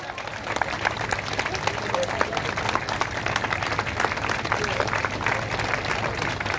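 An audience claps together in a loud, sustained round of applause, dense and continuous throughout, with a few voices faintly mixed into the crowd.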